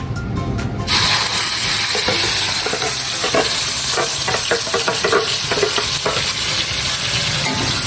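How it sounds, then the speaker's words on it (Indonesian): Blended spice paste for Betawi semur jengkol stir-frying in a pan, a loud, steady sizzle and hiss with scraping stirs throughout, starting abruptly after a quieter opening moment, with no talk. "gue blender, gue mau tumisin."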